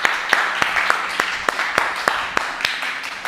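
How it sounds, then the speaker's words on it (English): An audience applauds to welcome a speaker onto a stage, a steady wash of clapping with a few sharper individual claps standing out, fairly close and without voices. "let's give him a big round of applause"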